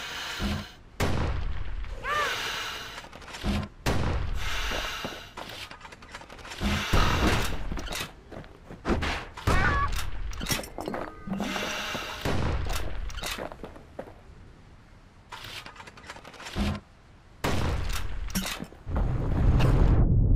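Gunfire from the video game Bastion comes as repeated sharp, loud blasts in uneven bursts, mixed with mechanical clanks and ratcheting between shots.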